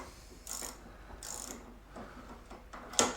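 A wrench ratchets on a wheel nut, with three short bursts of ratcheting clicks and a final sharp metallic click, close and fairly quiet.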